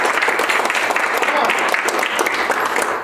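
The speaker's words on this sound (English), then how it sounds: "thanks for the claps" An audience applauds after a madrigal choir finishes a song at a school concert, dense sustained clapping filling the room at a strong, even level before tapering slightly at the end.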